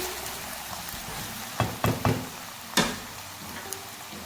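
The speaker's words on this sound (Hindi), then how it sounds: "अरवी को हमने मीडियम फ्लेम पर जिंजर गार्लिक पेस्ट के साथ फ्राई कर लिया है।" Taro root (arbi) frying with ginger garlic paste over a medium flame gives off a steady, soft sizzle, broken by a few sharp clinks and scrapes of stirring near the middle.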